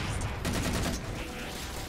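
Rapid gunfire from the Halo 4 video game rattles in dense overlapping bursts, loud and close, and a voice talks over part of it.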